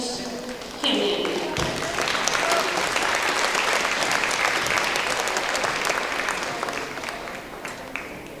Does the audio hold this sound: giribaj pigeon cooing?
no